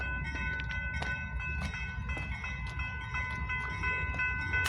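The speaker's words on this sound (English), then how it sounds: "there's a freight train right here, and Amtrak is waiting for that freight train." A BNSF freight train rumbles steadily nearby, with a low continuous drone, faint tonal hums and scattered clanks and knocks, and no voices.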